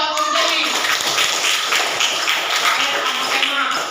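Classroom students clapping hands together for their teacher, a dense continuous patter of claps throughout, fairly close, with some voices mixed in.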